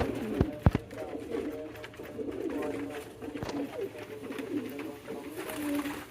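Pigeons coo at a pigeon farm, their low, repeated calls close and overlapping, with a few sharp knocks near the start and light background noise.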